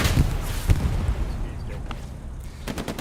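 Tank gunfire in a video game battle, a series of loud booming shots in quick bursts, with one heavy blast near the start and another near the middle, followed by rumbling aftermath.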